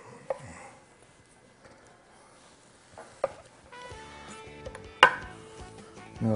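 A knife cuts between the bones of a rack of sauced, grilled ribs on a board, with a few sharp knocks and chops spaced out, the later cuts louder and closer over a faint background hum, no talking.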